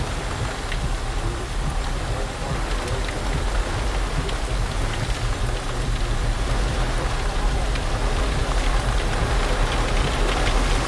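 Steady rain pours down, a dense hiss of drops hitting surfaces with a low rumbling undertone, constant and fairly loud throughout.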